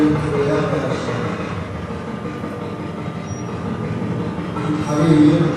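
A voice mimics a train rolling over a bridge, producing a continuous rumbling, chugging drone that dips mid-way and swells again toward the end.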